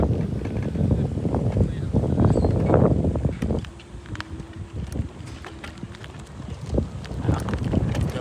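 Cold, gusty wind rumbles loudly against the microphone, easing midway, with scattered knocks and clatter in the background, outdoors at a dairy cattle feed area in Israel.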